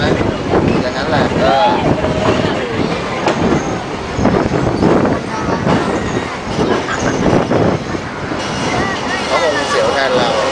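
Train crossing the Tham Krasae bridge, a steady rumble of wheels and carriages with wind buffeting the microphone throughout, while passengers talk loudly over it.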